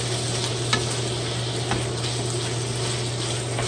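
Rosemary being stirred into shepherd's pie filling in a hot pan, a steady close sizzle with a low hum beneath and two brief scraping clicks from the utensil.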